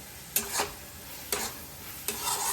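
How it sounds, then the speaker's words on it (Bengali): Food fries in a small amount of oil seasoned with Kashmiri red chili powder, a soft, steady sizzle broken by three sharp scraping stirs of a spatula across the pan at close range. "একদম অল্প তেলে রান্না করছি"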